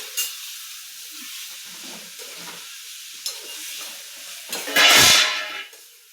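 Egg masala sizzling in a pan as a spoon stirs it, soft scraping taps and light frying hiss that swell into a loud burst of sizzling steam near the end.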